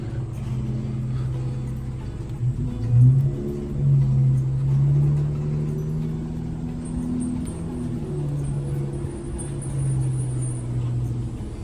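A vehicle engine revving and rumbling low and steady as it is maneuvered with precision, swelling a couple of times before settling back into an even drone.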